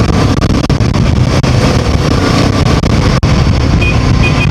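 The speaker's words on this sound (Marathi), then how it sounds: "ही बाईक आहे ना जेव्हा 3000 RPMच्या वरती जेव्हा जाते ना ही गाडी एकदम मॉन्स्टर" Royal Enfield Himalayan 450 motorcycle engine revving hard above 3000 RPM, a loud, close, continuous roar with slight surges and no talk over it.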